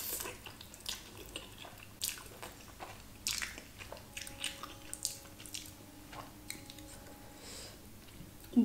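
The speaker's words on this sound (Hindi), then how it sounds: "चलो जल्दी सब खा लेते हैं." Close, quiet biting and chewing of spicy black bean noodles, Schezwan chicken lollipops and cheesy pizza: a steady run of soft crunches and wet mouth sounds, with faint clinks and a thin tone in the background.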